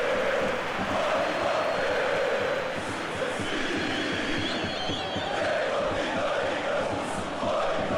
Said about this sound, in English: the crowd clearly like what they just saw